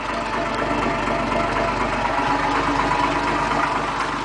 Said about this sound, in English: I welded 2 glass packs together. I sort of wanted a deep throaty sound with the 6s